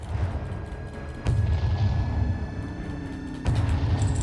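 Shotgun blasts in the co-op horror game Chained in the Backrooms: two heavy booming shots, about two seconds apart, each with a sharp onset and a long low rumble over a steady background drone.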